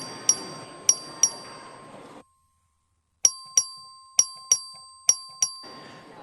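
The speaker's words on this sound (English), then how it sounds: "The clerk ring the bell." Bell in the Texas House chamber rung for a record vote, with sharp, bright dings struck in two groups, a few strikes first, then a brief silence and a faster run of about six more, each ringing out briefly.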